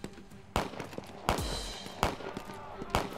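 Grenade blasts in a wartime action by a manor farm, the explosions echoing off the surrounding wall: four sharp, loud bangs at roughly regular intervals, each with a short rumbling tail, over a noisy background.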